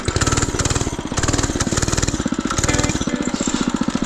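A budget mini bike's small engine revs hard and steadily at close range during a wheelie attempt, its rapid, throbbing pulses rising and falling slightly as the throttle is worked.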